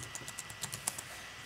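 Quick, light keystrokes on a computer keyboard tap out a short burst of about eight clicks, close and crisp, with no talking.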